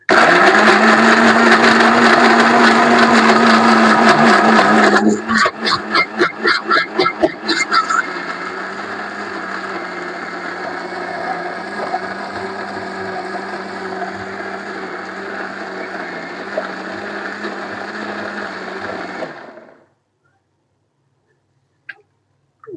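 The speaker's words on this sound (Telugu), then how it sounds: "మిక్సీ అయితే పట్టేసుకుందాము" Loud, steady whirring of a mixer grinder blending a banana dry-fruit milkshake close by, then pulsing in short bursts and spinning down before stopping near the end.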